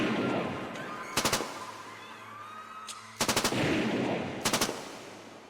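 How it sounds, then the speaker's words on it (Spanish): Military weapons fire in quick bursts of automatic shots, three short rattling volleys spaced apart over a steady low rumbling ambience in a horror scene. "El sonido inconfundible de los disparos de las armas militares llegó a ti."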